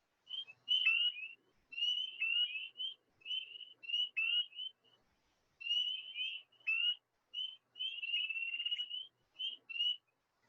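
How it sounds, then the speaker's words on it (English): Spring peeper frogs call in the northeastern United States, a series of clear high peeps in short bursts, some ending in a brief trill, with quiet gaps between phrases and no voices. "I was mentioning that sometimes there's a bit of a trill added to spring peeper songs."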